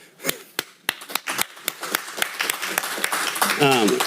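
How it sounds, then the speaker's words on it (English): Applause from the audience at a city council meeting in a hall: a few sharp, separate claps at first that build into a steady round of clapping, with voices talking over the end. "I wish we could just give her a round of applause"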